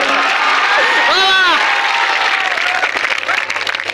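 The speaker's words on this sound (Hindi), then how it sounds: "एक बार जोरदार तालियां बजा दीजिए" Loud school audience applause and cheering at a Republic Day poetry program, a roaring sustained crowd clap with an amplified voice briefly riding over it, thinning slightly toward the end.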